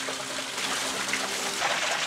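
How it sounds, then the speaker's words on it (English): A small waterfall at a Florida sanctuary trickles steadily, a soft continuous wash of running water heard from a short distance, with no voices. "back there is the little waterfall."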